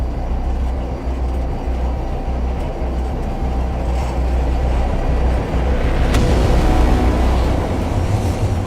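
A tunnel boring machine works inside the mountain with a 14-meter cutting wheel, producing a continuous heavy low rumble and grinding roar, steady and loud, with no voices.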